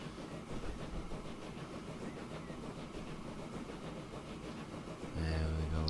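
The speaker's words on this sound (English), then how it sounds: "So this little train should do the job for a few years." A small train runs along the track in the Transport Fever game, a soft, steady rolling rumble that gives way to a louder, sustained tonal sound at the very end.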